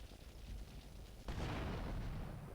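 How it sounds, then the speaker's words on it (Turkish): In GTA Vice City, a sudden loud boom bursts in midway as a car explodes, rolling into a sustained roaring blast of noise. "Patladı gitti."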